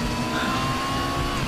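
A race car engine in the Raceroom Racing Experience sim holds a high, steady whine at high revs, loud and continuous with a thin tonal edge, no talking.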